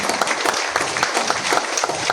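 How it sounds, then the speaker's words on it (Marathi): A crowd at a police ceremony for returning recovered property breaks into dense, sustained clapping that stays loud and even throughout, with no pauses. "या समस्त दलांसाठी जोरदार टाळ्या झाला पाहिजे"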